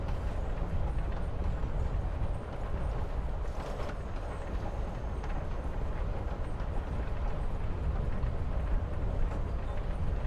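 A train ride in the video game Life Is Strange: Before the Storm, heard as a steady rumbling rattle of rail carriages that runs continuously and fairly loud throughout.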